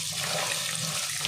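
Ration rice being rubbed and washed by hand in water, a steady close sloshing and swishing that runs continuously for the whole short stretch with no talk.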